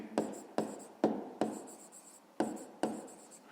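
Pen or pencil writing an answer to a fifth-grade maths exercise, six distinct strokes in an uneven rhythm, each a short scratchy burst, close and clear with no talk.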